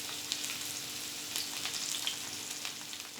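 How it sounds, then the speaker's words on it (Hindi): Finely chopped medium onion sizzles in hot oil with two bay leaves, a soft, steady frying hiss with faint crackles throughout. "फिर हम इसमें एक मीडियम साइज़ का प्याज डालेंगे, छोटा छोटा चॉप किया हमने।"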